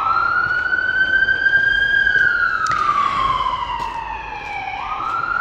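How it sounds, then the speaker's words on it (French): A police siren wails past outdoors, its long rising and falling tone loud and close before sliding lower as the vehicle moves on, with traffic noise beneath. "je crois que c'est la police, ça, comme sirène."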